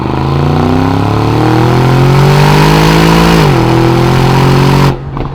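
A 2021 Aston Martin DBX SUV with a 9-speed automatic pulls hard under acceleration, its loud, steady engine note climbing smoothly through the revs, dipping briefly at a gearshift, then rising again before cutting off abruptly.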